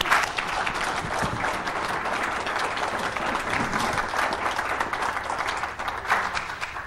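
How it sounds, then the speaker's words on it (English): Sustained applause from an audience for a panel, many hands clapping steadily and close, with a brief swell near the end. "let's give them one more round of applause."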